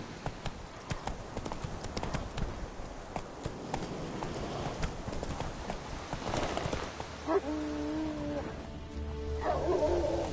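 Roach, the horse from The Witcher 3, trots and gallops with a steady stream of clip-clop hoofbeats throughout. Ambient game sound and music lie underneath, with a sustained tonal drone taking over near the end.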